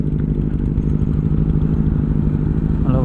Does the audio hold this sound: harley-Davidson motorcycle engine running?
yes